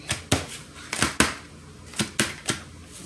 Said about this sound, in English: you can still see me chopping. Chop, chop, chopping.